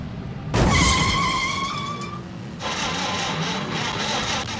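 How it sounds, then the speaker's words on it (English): At Arena Essex, racing cars in a 1990s Rising Stars Series meeting collide with a sudden loud metallic crash. Engines roar and tyres scrape for a moment after, and then a steady racing drone follows. "And Don West now smashing into 420, Neil Wells."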